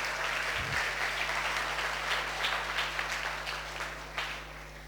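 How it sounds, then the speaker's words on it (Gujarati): An audience at an advertising competition event gives a burst of loud, sustained clapping, dense and continuous before thinning slightly toward the end. "આપણે ખૂબ જોરથી એકવાર તાળીઓ પાડીને એમને વધાવી લઈએ"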